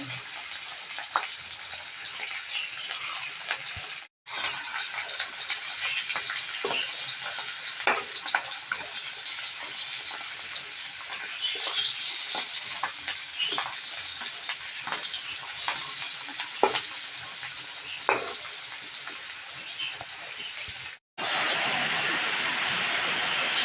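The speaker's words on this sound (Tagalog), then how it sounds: "Masarap itong piniprito natin to yung isda. Ito yung isdang tamban." Tamban fish frying in a pan makes a loud, continuous hiss and spatter with frequent sharp pops, broken by two short cuts to silence, the last stretch a brighter rushing sizzle.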